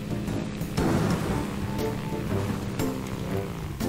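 A thunderstorm in the Wobbly Life video game brings steady, loud rain with sharp cracks of lightning and thunder breaking through at intervals.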